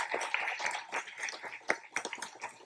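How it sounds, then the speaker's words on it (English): Audience at a poetry reading applauding, a short burst of scattered individual claps heard faint and somewhat distant, uneven in rhythm, with no talk over it. "I hope you can hear the applause here, Mark."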